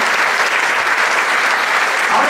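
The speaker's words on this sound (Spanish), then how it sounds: "Así que un aplauso para José y para Víctor." An audience applauds José and Víctor with a dense, steady burst of clapping. It sounds near and fairly loud and lasts a couple of seconds without any voices.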